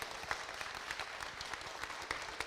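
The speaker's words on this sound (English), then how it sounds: "Please give us a big round of applause" An audience applauds the Oliver twins at a fireside chat event, a dense, even patter of many hands clapping continuously at moderate distance.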